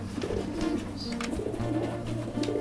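Soft, repeated cooing from a checker cock racing pigeon, a low throaty warble rising and falling over a steady background hum.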